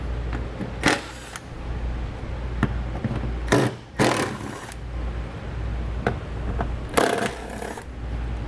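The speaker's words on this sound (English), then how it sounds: "On the front side, we've got 3 bolts. Again, these need a 10mm socket." A socket wrench loosens 10mm bolts on the rear panel of a 2014 Honda CR-V, with several sharp metallic clicks and ratcheting bursts spaced irregularly over a quiet background.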